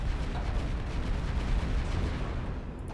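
Heavy battleship guns in a space fleet strategy game, a steady, booming barrage of low rumbling blasts that rolls continuously without a break, with no voices.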